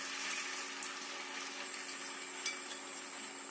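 Potato sticks for homemade french fries hitting hot oil, a loud steady hissing sizzle of frying that fills the whole clip with a few brief crackles, no talking.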